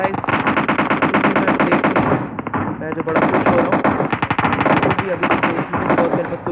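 Gunfire in the mobile battle-royale game PUBG Mobile, with loud, dense bursts of rapid automatic shots that run almost nonstop and dip only briefly in the middle.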